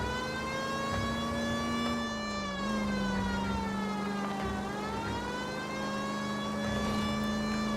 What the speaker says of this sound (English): I feel more comfortable with the siren on.